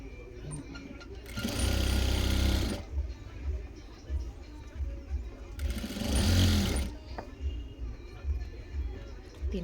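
A sewing machine stitches a neck strip onto a printed suit in two loud whirring bursts separated by quieter handling, with a voice talking in between.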